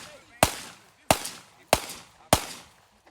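A Micro Draco airsoft gun fires four sharp, loud shots at an outdoor range, evenly spaced about half a second apart, each with a short ringing tail.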